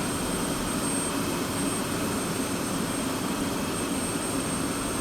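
F-16C jet engine in DCS spooling up after the jet fuel starter is engaged on a cold-and-dark startup, a steady broadband turbine roar with a high whine, constant and loud throughout with no talk.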